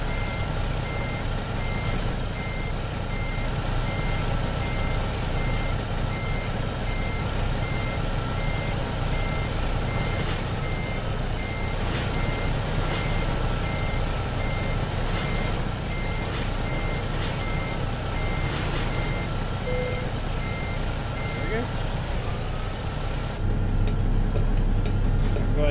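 Mack F700 truck reversing in American Truck Simulator, with a series of high electronic backup beeps in short bursts over a steady loud diesel engine drone.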